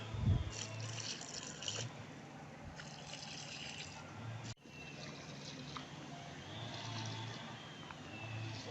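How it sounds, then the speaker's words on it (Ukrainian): Water pours and trickles into planting holes in a vegetable garden bed in early August, a soft gushing splash in several bursts with brief pauses, fairly close and moderate in volume. "Поливаємо кожну луночку водичкою."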